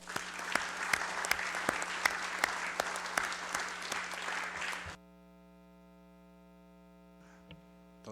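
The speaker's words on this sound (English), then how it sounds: "let's give them a big round of applause" Applause in a legislative chamber during a congressional special session: brisk, sharp clapping for about five seconds, then it stops abruptly, leaving only a steady electrical hum and a faint stir near the end.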